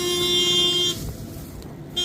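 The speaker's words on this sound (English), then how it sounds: "Yes, I know. You can stop beeping." A farm machine in a field sounds a steady, loud tonal warning beep for about a second, then breaks off briefly and starts again.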